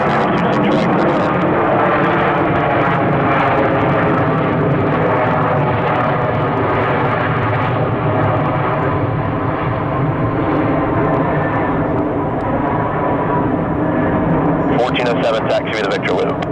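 Airliner landing on runway 26 right at Atlanta International Airport, a loud sustained engine roar heard throughout with broadband rumble, while radio chatter plays underneath.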